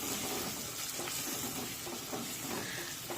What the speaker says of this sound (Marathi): सर्व मसाले व्यवस्थित परतून घ्यायचे